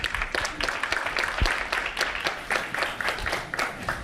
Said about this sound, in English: Big round of applause, Chris Deck.